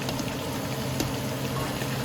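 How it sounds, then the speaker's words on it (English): Onion, scallion and garlic sautéing with browned oxtail in a pot for Jamaican oxtail, giving a steady, dense sizzle and bubbling that holds evenly with no talking. "I'm going to throw some onion, scallion and garlic and saute for 2 minutes"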